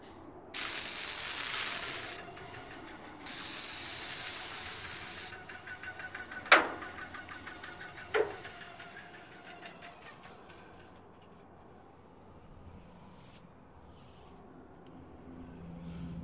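An airless sprayer applies log home stain in two long, loud continuous bursts of hissing spray near the start, followed by a couple of sharp knocks and quieter brushing and rubbing sounds.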